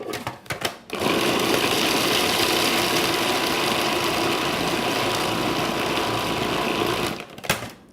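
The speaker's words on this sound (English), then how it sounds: "I'm just going to put them right into the food processor because we want a fine mince" A food processor finely minces raw shrimp, giving one loud continuous whirring and rattling burst of about six seconds, with brief clatter at the start and end.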